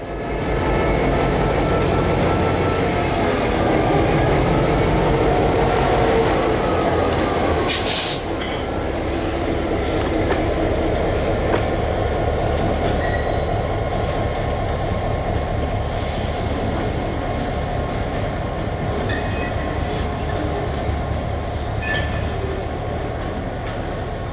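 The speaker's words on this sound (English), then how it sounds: "the NX-10 shoves the boxcar onto the Chepag Spur and clear of the main" The NX-10 locomotive shoves a boxcar onto a spur on the Housatonic's south end, making a loud, continuous rumble with rhythmic wheel clatter and a brief sharp burst partway through.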